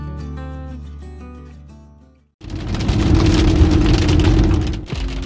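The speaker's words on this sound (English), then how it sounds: "we experienced the worst hail ever. It was so loud and we could not see anything" Heavy hail pounds an RV after a road-trip visit to the Black Hills, a dense, loud roar of hard impacts that starts abruptly partway through, following a quieter tonal passage, and keeps hammering steadily to the end.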